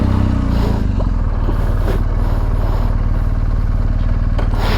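Motorcycle being ridden during a precision riding and clutch control lesson, heard as a loud, close, steady engine drone with some clatter throughout.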